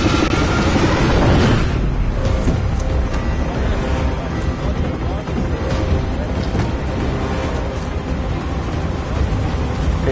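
A helicopter in the Warzone video game roars as a steady, loud, broadband drone that swells at the start and holds for about ten seconds.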